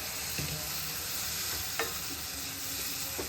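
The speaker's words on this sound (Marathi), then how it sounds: "आणखीन थोडंसं पाणी टाकून घ्यायचं" Bottle gourd kofta gravy bubbles and sizzles in the pan after water is added. A steady frying hiss carries a few soft stirring clinks and pops.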